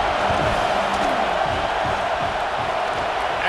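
Stadium crowd at a football game roars steadily during a field goal attempt, a dense, loud, sustained wash of noise with no break.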